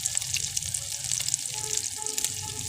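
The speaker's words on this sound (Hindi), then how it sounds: "ये देखें बहुत अच्छी सी हमारी टिक्कियाँ जो है फ्राई होना शुरू हो गई हैं।" Chicken shami kabab patties sizzle and crackle steadily in hot oil, a close, continuous frying hiss with small pops throughout.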